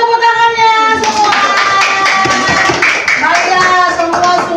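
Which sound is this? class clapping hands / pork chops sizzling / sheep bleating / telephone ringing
class clapping hands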